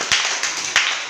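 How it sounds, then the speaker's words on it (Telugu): A group of people clap their hands together in a short burst of applause, several quick rhythmic claps close by with no talking. "క్లాప్స్ కొట్టండి అందరూ."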